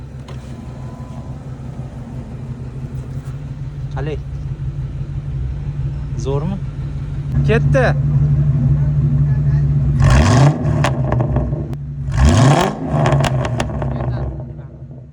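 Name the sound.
Ford Mustang GT 4.6 litre V8 engine running and revving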